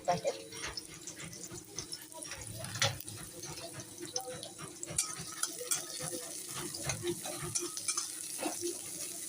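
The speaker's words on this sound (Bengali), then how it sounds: "এবার বসাবো শাক ভাজা" Quiet sizzling and frying of greens in a pan, with occasional stirring scrapes and soft voices in the background.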